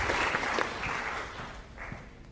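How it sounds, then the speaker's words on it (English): Class applause in a lecture room for two players after an in-class repeated game demonstration, a short moderate burst of clapping that fades within a couple of seconds. "A round of applause for our two feistier players."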